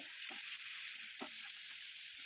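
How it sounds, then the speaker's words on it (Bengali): Onion paste hisses steadily in hot oil with black cumin seeds, salt and turmeric, a soft continuous sizzle with a few faint stirring scrapes. "তারপর তেলে কালো জিরে ফোড়ন দিয়ে পেঁয়াজ বাটা, নুন হলুদ দিয়ে একটু ভেজে নিয়ে"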